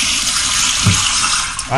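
A toilet flush sound effect plays, a loud, continuous rush of swirling water filling the short moment and rising again at the end, with no one speaking over it.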